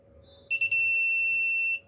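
A buzzer on a TTP223 touch sensor alarm module chirps briefly a few times, then holds a loud, steady high-pitched tone for over a second before stopping, with a low hum underneath.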